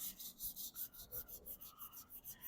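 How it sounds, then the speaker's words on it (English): Quiet, rhythmic back-and-forth rasp of fine sandpaper rubbing down sanding sealer on a wooden surface, about a dozen even strokes at a steady pace. "I'm just sanding the sanding sealer down"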